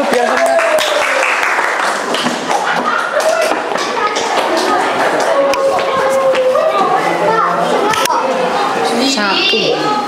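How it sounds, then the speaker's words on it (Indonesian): Classroom audience applauding for a group performance at a teacher-training session, with children's voices and chatter mixed into the steady clapping throughout. "beri tepuk tangan dulu biar semangat"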